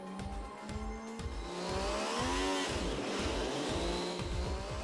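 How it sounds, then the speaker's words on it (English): An MV Agusta F3 motorcycle engine built from early production parts runs on a factory test bench, its revs rising and sweeping with a steady rhythmic low throb, loud and close. "Now the engine which is running is one of the first engines made with production parts"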